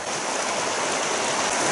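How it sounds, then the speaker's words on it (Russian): Floodwater pours from a river over into a swamp in a flooded forest, giving a continuous close rushing roar of water with no talk. "Это у нас вода переливает с реки на болото."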